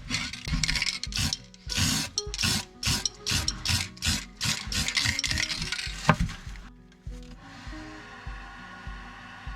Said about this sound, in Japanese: まずマルチプライマーを拭きます。